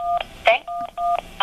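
Telephone keypad buttons are pressed in a voicemail menu, producing several short, clear DTMF beeps in quick succession, loud and close.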